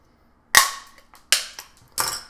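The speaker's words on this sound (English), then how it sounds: "Poke holes in the metal canning lid with the paper punch." A paper punch pokes holes in a metal canning lid: three sharp, loud snapping punches about three quarters of a second apart, each trailing a short metallic rattle.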